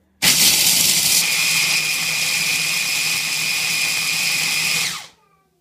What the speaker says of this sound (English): You just put cashew and oats in, what is this called? Food grinder thing?